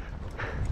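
A ridden horse's hooves clip-clop briefly on a ranch trail, a quick run of close, dull footfalls with no voices.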